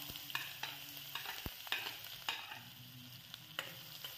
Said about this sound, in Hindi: अब इसमें कटा हुआ प्याज डाल देंगे